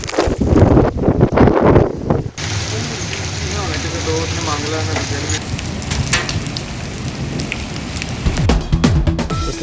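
Heavy storm rain falls during flooding in England, with a dense hiss of downpour on surfaces and gusts of wind buffeting the microphone. The sound shifts in intensity from moment to moment.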